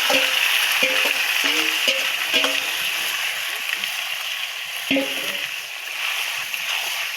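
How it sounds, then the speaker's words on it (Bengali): Fried onions tempered into marinated duck meat: a continuous bright hissing sizzle with a few soft stirring clinks and scrapes, close and steady throughout. "লাল লাল করে আমি এনে বাগার দিয়ে দেবো, মাখানো গোশ"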